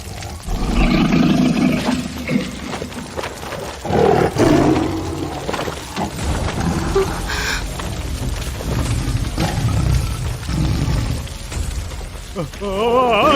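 A fire tiger from the Hindi-dubbed film Suriyabali 2 roars in loud, heavy bursts under a dense film soundtrack of crashes and booms, carrying across the whole scene.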